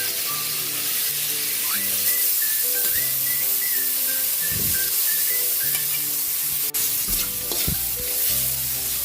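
Tomatoes hit a hot frying pan with oil, a steady loud sizzle that runs the whole time, mixed with stirring scrapes and a few clanks of a utensil against the pan.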